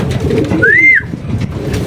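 A pet pigeon gives a single clear, close coo that rises and then holds briefly. Soft outdoor background noise surrounds it.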